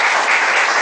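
A speakers forum audience applauds to welcome the chief guest, a brief, loud, dense wash of clapping from a room full of people, steady with no pauses.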